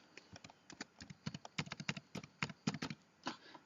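Keystrokes on a computer keyboard while a password is typed, a quick irregular run of close, crisp clicks with short pauses, no voices.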